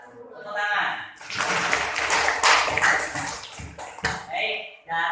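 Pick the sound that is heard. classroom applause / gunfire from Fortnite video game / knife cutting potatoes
classroom applause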